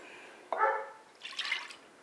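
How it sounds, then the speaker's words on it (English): Eggs and coffee are poured into a mixing bowl for pumpkin bread, giving a brief wet splash followed by a short trickling pour, close and fairly quiet with no talking. "So I'm going to put the eggs and the coffee"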